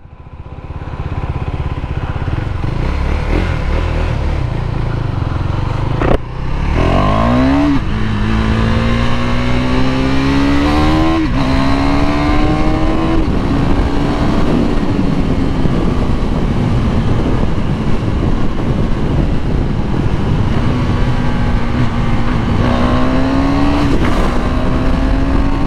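A KTM 390 Duke motorcycle roars loudly up close, its engine revving and accelerating in repeated rising pulls with a brief break between gears, the droning exhaust note sustained throughout with no talking.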